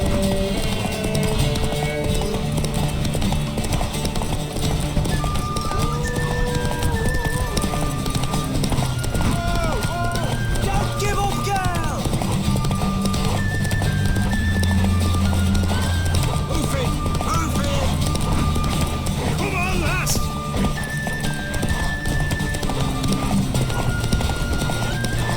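Hooves clip-clop steadily as a horse runs in The Witcher 3 video game, with a whinny and game sounds layered over continuous background, near and moderately loud throughout.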